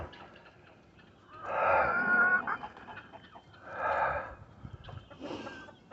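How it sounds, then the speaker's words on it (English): Chickens and roosters cluck and squawk in a crowded yard where feral cats also gather, bursts of loud close fowl calls rising and falling over a steady farmyard background. "Roosters out here stealing their food."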